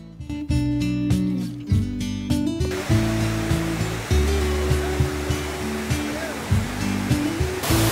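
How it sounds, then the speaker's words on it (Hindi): A waterfall near Kangri Dham at Naddi roars with a loud, steady rush of water, while music with a thumping beat plays over it throughout. "हम वाटरफॉल के पास पहुंच चुके हैं।"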